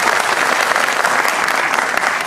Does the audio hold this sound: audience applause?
yes